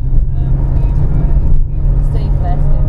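A Nissan Micra engine held at high revs in first gear while climbing a mountain pass on the Pamir Highway, a loud, steady, low droning roar throughout, with faint voices mixed in.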